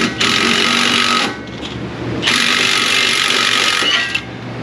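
A 3/8-inch Gray Pneumatic air impact wrench removes thread-locked bolts in two long, loud bursts of rapid mechanical hammering, separated by a short pause in a repair shop.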